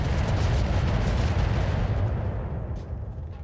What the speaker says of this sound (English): We're just going to chuck as many missiles as we possibly can into the target.